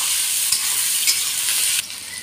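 Onion and green chili frying in a pan for mashed potato, a steady close sizzle with brief stirring scrapes, then the hiss softening slightly near the end.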